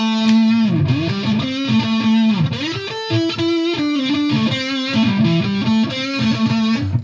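Distorted electric guitar played through a Fender Mustang GTX100 amplifier, a loud, saturated, sustained tone with melodic bends and shifting notes, close and without talk.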